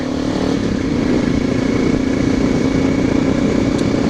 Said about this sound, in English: You hear the reed valves working on my bike.